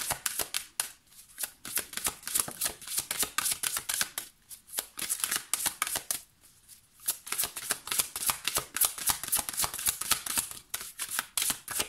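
Oracle cards being shuffled and drawn, a steady run of close, crisp riffling and flicking with brief pauses, no voice heard.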